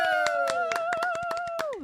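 Hand clapping from a small group in a radio studio, a quick run of sharp claps lasting under two seconds over a steady sung or hummed tone.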